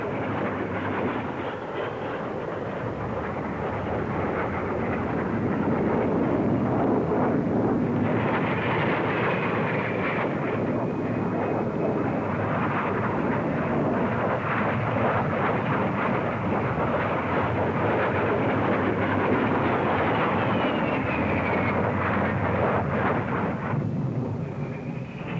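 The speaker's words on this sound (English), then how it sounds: "The Jet Provost, also in production for the RAF." Jet Provost jet trainer aircraft of the RAF at the Farnborough air show, a broad roaring jet rush that swells and holds loud with a faint whine rising over it, heard alone.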